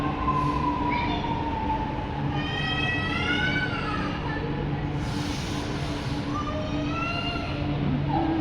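A passenger train running steadily on a route back from Hyderabad, a continuous rumbling roll with rising and falling whining tones and faint squeals throughout, close and enclosed, with some background voices.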